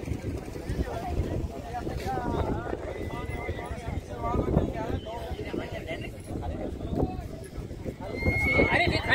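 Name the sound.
horse neighing, a Panchkalyan mare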